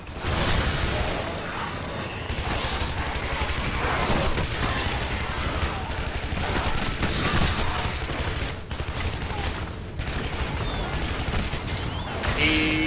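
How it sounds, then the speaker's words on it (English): In the game Shadow Warrior, a sustained volley of fireworks bursts and pops, loud and closely packed like a fusillade, with brief dips before the barrage resumes. "That is fireworks."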